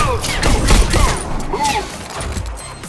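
Rapid bursts of gunfire ring out in a subway shootout in the VR game Bullet Train, loud and dense at first, then thinning into scattered shots.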